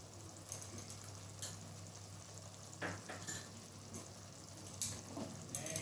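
Mutton curry with turmeric sautéing in a pan over low heat, giving a quiet, steady sizzle with occasional soft stirring scrapes and clicks, fairly faint and continuous throughout.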